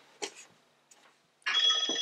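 A telephone rings in a quiet room, one short burst near the start and then a louder, sustained ring toward the end.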